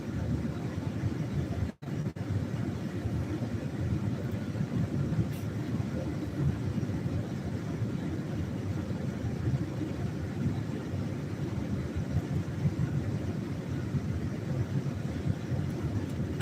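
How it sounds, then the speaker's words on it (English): Car heater fan blows steadily on the floor setting, giving a continuous low airy rush with no breaks, heard from inside the vehicle. "Sorry, it's gonna be loud. I need the heater on the floor."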